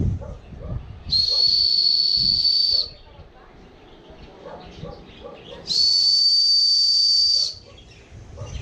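A person outdoors whistling to call a bird, two long steady high-pitched whistles of about two seconds each, separated by a quiet gap with faint background sounds.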